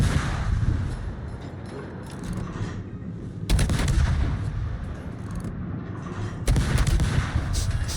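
Ship guns fire in a naval battle video game, heavy booming salvos landing in two sharp bursts with rumbling decay between, set over a continuous low drone of engine and sea noise.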